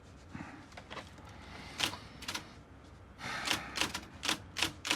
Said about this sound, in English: Lionel resumes typing.